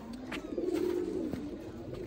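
A blue-eyed pigeon gives a steady, close-up coo, one drawn-out rolling call, with no talking around it.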